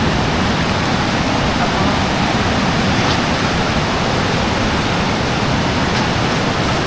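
Rushing flood water surges past in a steady, loud, unbroken broadband roar, close and continuous with no voices.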